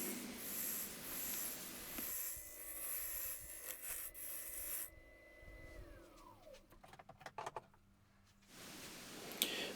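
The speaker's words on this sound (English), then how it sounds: "I'm just using a parting tool here just to start the cut off." A parting tool cuts a tenon on a wooden goblet blank spinning on a wood lathe, giving a close, steady scraping rasp. The lathe motor then hums and winds down, with a few scattered knocks afterward.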